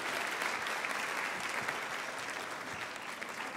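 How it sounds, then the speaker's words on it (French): Steady applause from an audience at a school event as the parents' association president is welcomed, a dense even clatter of clapping sustained throughout at moderate level with no voices standing out. "Monsieur Gilbert, vous pouvez l'applaudir."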